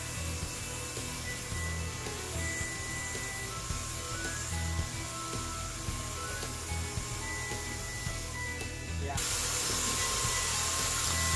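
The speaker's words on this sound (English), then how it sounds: "dialing in the HVLP sprayer, and showing us the technique for doing the edges" An HVLP sprayer laying a color coat onto cabinets gives a steady, close hiss of atomized air that runs throughout, growing brighter and louder near the end.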